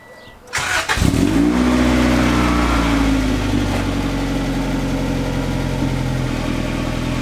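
A Honda Integra DA9 with a full exhaust, header and non-resonated test pipe cranks and fires up, then settles into a loud, steady idle with a deep, even drone.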